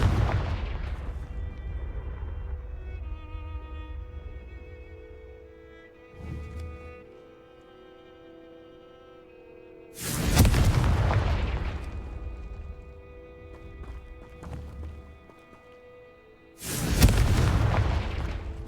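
Confringo fire-spell explosions in the Hogwarts Legacy video game: deep booming blasts that ring out and fade slowly, with three big hits spaced several seconds apart and smaller thuds and magical tones between them.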